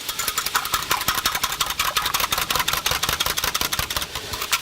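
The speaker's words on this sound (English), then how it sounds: "add some cornstarch into this. We'll get that little whisk together" Small whisk beating cornstarch into a chicken stir-fry sauce, a rapid, steady run of close, bright metallic ticks against the bowl or pan, continuous throughout with no talking.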